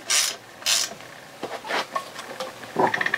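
Ratchet working bolts on a Yamaha 225 HPDI outboard lower unit, a few short close clicking and rasping bursts with small metallic ticks between them.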